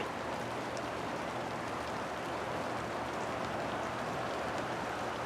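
Drizzle falls steadily on a gray day, a soft, even hiss of rain with faint scattered droplet ticks and no other sounds.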